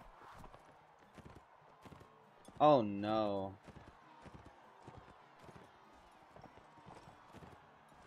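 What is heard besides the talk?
horse hooves in video game Mount and Blade: Warband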